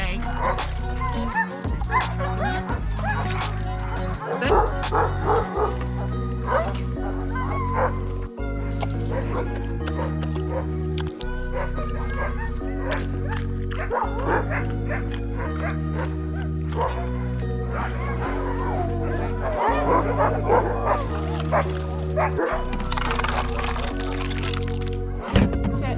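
Sled dogs in a Jackson, Wyoming mushing kennel in winter bark, yip and whimper continuously and close by, a loud overlapping chorus with occasional sharp cracks.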